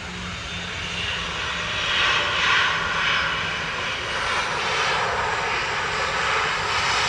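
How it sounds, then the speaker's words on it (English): Ryanair Boeing 737-800 jet airliner at Manchester Airport, a continuous broad engine roar holding steady at moderate distance, swelling slightly midway, with no talk over it. "Ryanair 3126 to Marrakesh now. 737-800 GRUKA."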